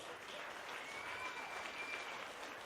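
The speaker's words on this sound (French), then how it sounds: "Mesdames et messieurs, on peut applaudir encore une autre fois." Audience applause for a young performer at a televised artist showcase in Mistassini, a continuous, even patter of clapping from a crowd, fairly faint and without talk.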